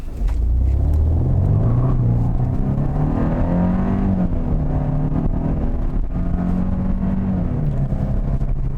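A 2020 Kia K5 with a 1.6 turbo engine and eight-speed automatic pulling away from a standstill, with a loud, close engine rumble climbing in pitch through the gears, steady and sustained throughout.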